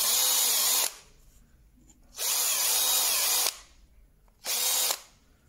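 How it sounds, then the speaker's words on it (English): A power drill bores a larger countersunk hole in a carriage clock shelf during repair, in three loud close bursts of about a second each, separated by quiet pauses. "Bigger hole in there. A little bit of a countersink."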